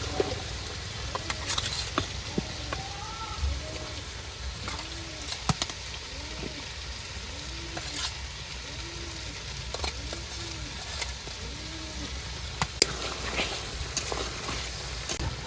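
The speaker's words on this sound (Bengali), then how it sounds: "এখন এই মশলার মধ্যে আমি ভাজি রাখা আলুগুলো দিয়ে দেবো আর টমেটো দেবো" Previously fried potatoes and tomatoes frying in a cooked-down spice paste in a Bengali village kitchen, a steady soft sizzle with occasional clinks and stirring scrapes, close and alone without talk.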